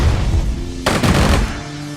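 Machine gun fire in the strategy game Strategic Mind: Spectre of Communism rattles in a loud, dense burst of rapid shots over a rumbling battle background.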